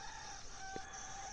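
Kadaknath chickens on a farm cluck and crow faintly in the distance, thin drawn-out calls sitting over a steady hiss of outdoor background noise.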